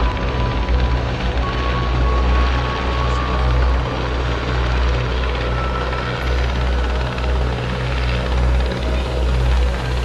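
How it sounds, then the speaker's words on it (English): A Coast Guard helicopter's heavy rotor thumping and engine roar, loud and steady throughout, as if passing close overhead a cruise ship. "A helicopter came in from the coast."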